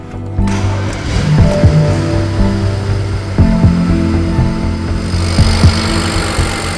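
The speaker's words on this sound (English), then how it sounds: "Engine sounds pretty healthy." A BMW 335i engine idles steadily up close, a low continuous rumble with occasional mechanical clicks.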